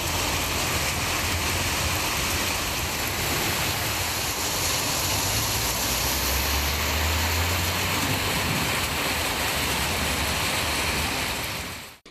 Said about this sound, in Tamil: இடியுடன் பெய்த கனமழையால் சாலைகளில் தண்ணீர் பெருக்கெடுத்தது